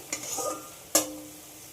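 Spice paste with salt and turmeric stir-fried in a pan, two short scraping stirs with a soft sizzle between them, close and fairly quiet.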